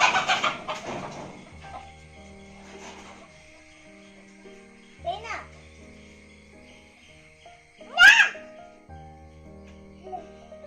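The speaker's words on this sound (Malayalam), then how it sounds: "പുറകെ കോഴി" Farm chickens cluck around goats and kids at a cattle farm, with a few scattered calls: one near burst at the start, softer clucks in between and a sharp squawk later, over a quiet rural background.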